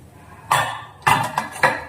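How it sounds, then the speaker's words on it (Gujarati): A pressure cooker holding batata poha is opened with a few sharp metallic clanks and clatters of the lid and pot, close by and spaced unevenly. "હવે આપણે 2 મિનિટ પછી આપણે કુકર ખોલી લઈશું"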